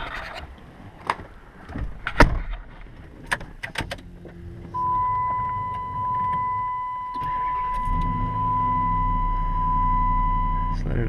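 A 2007 Dodge Durango, just fitted with a new idler wheel, cranks and starts, then settles into a steady idle with a thin whine above the engine hum.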